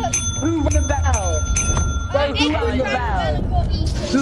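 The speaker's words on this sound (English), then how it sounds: "Who rang the bell?" In the video game Lethal Company, a bright bell rings repeatedly in quick strikes, clear and fairly loud, over a busy mix of chatter and game noise.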